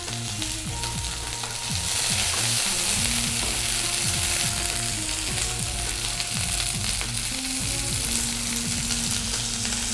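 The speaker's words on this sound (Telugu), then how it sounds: "బెండకాయలు ఫ్రై అయిపోయాయండి," Okra (lady's finger) frying in a pan, a loud, dense and continuous sizzle close by that swells slightly after the first two seconds and holds steady, with faint stirring clatter underneath.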